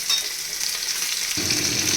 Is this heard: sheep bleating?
no